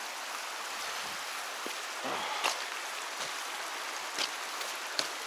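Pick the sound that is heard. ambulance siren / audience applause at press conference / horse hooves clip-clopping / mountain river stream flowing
mountain river stream flowing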